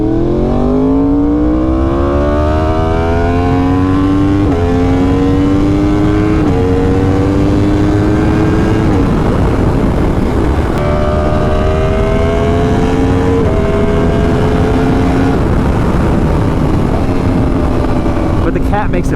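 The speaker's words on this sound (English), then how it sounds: "I think just doing a slip-on makes a very big difference." A motorcycle fitted with a slip-on exhaust muffler revs loud and close, its pitch climbing repeatedly through a series of throttle pulls and shifts before easing off near the end.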